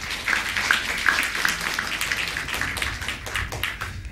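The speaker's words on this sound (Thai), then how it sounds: "ขอเสียงปรบมือด้วยครับ" An audience claps for a teacher invited up at a Thai education event. The sound is a steady patter of many hands, fairly close, with no talk over it.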